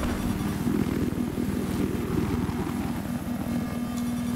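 A plane engine in Battlefield 4 drones steadily and loudly with a throbbing, propeller-like pulse, sustained with no speech over it.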